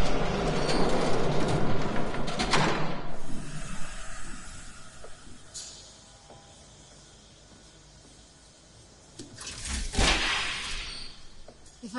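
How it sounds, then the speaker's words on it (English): A train rushes past in Batman: The Telltale Series, a loud, broad roar that fades into a low rumble before a second burst of rushing noise swells near the end. "There's a train coming."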